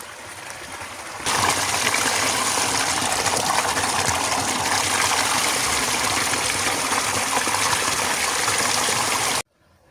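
Water gushes steadily from a spring in a Greek mountain village, a loud, close, continuous rush that starts abruptly and cuts off near the end.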